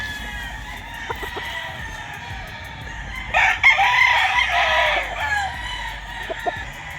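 A sweater gamefowl rooster at a game farm crows once in a loud, drawn-out burst near the middle, with a few short clucks scattered before and after over steady outdoor background noise.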